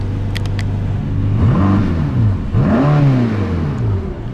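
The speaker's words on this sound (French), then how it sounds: "On ouvre l'échappement." Mercedes-AMG GT Black Series, 4-litre twin-turbo V8, exhaust valves open: two loud revs rising and falling in pitch, each swelling then easing back to a steady idle rumble.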